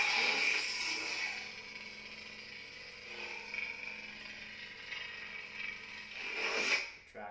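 Kylo Ren sound font on a lightsaber played through a Sabertrio 22mm speaker, a harsh crackling, unstable hum at steady loudness for several seconds, swelling near the end and then cutting off.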